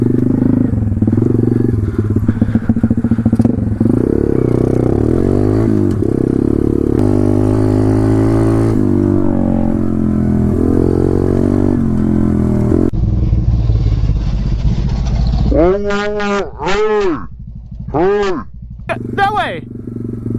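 A pit bike's engine runs at a steady mid pitch and then revs in a series of sharp rising and falling bursts near the end, ridden on a private road by state land. Voices talk over it.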